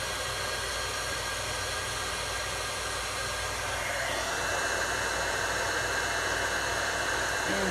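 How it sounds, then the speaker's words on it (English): An embossing heat tool blows hot air in a steady, close, loud whoosh that holds without a break, its tone shifting slightly partway through as it warms up. "let me heat up my heat tool a little bit"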